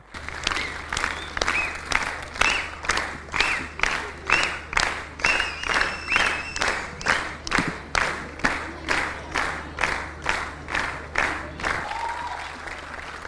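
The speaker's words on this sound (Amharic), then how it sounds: "እጅግ ሞቅ ያለ ጭብጨባ" Rhythmic, unison applause from the audience at a student quiz competition award ceremony, with about twenty regular clapping pulses that stay loud and steady before fading at the end.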